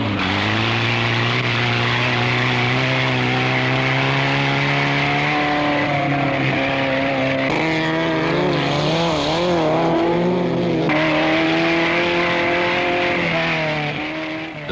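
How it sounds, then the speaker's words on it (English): Austin-Healey Sprite and Mini cars racing at a 1970s countryside autocross, with several engines droning loudly and continuously, their pitches rising and shifting together as the pack passes close by. "Straker's Sprite leads the lively bunch, challenged by the ever-pressing Minis."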